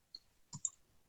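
A few faint, sparse clicks of keys on a computer keyboard come as a command is entered, quiet and close with no talk over them.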